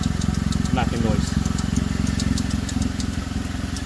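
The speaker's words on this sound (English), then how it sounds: "then we'll figure out that knocking noise" An idling Honda CR-V engine with an exhaust leak runs close by with a steady rhythmic tapping knock repeating through the low rumble.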